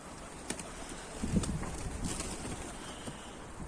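Soft coos of Mardin pigeons rise briefly amid a steady outdoor hiss, faint and somewhat distant.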